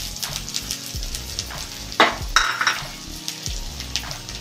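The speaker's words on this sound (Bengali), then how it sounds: "তার মধ্যে আমি আগে তেলটা দিলাম, একটু ভেজে নেবো আমি সামান্য।" Onion and potato fry in hot oil in a pan, giving a steady close sizzle. A couple of sharper scrapes and clinks from utensils against the pan break through, with no voices.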